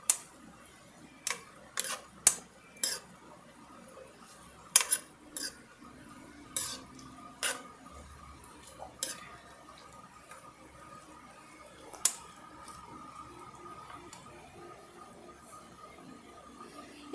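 Soya chunks fried rice being mixed with a spoon in a pan, with sharp scattered clinks and taps of metal on the pan over a faint, quiet background.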